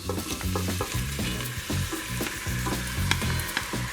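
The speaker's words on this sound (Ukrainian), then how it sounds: "Нарізані томати викладаємо в каструлю, де вже підсмажилась цибулька." Tomatoes and onion frying in a pan, a steady bright sizzle with stirring scrapes and clinks throughout, no voices.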